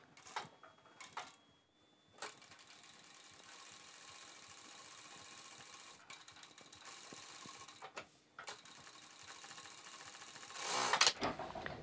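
A sewing machine stitches pleats into fabric for girls' half pants, with a steady mechanical whir and several short bursts and stops, ending in a louder rattling run.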